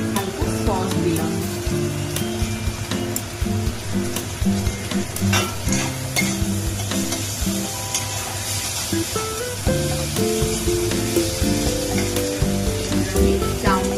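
Egg chow mein sizzles and fries steadily in a pan after sauce is added, with continuous stirring and scraping clatter throughout and no speech.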